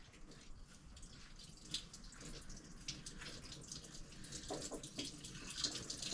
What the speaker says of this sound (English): So that water coming out's pretty clean.